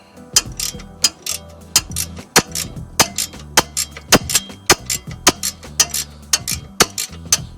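A ratcheting wrench clicks in quick, rhythmic bursts as it turns a long strut bolt on a 1986-1991 Cadillac Seville, the sharp close ratchet ticks repeating steadily throughout with no talking.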